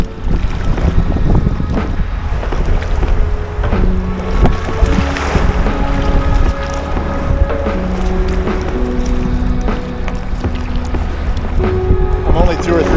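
Kayak paddling on Lake Superior in wind, steady rushing water and wind buffeting the microphone throughout, with someone talking over it.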